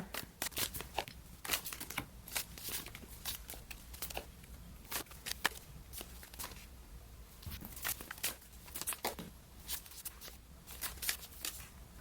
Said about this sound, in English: I am going to lay these cards out really quick